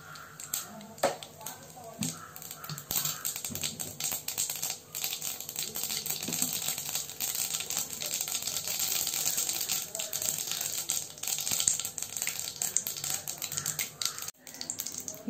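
Mustard seeds crackling and popping in hot oil while making pepper chicken: a dense run of sharp little snaps and sputters over a hissing background, close and continuous.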